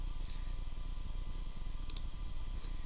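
Quiet computer mouse clicks, two brief double clicks separated by a pause, heard over a steady hum of background noise.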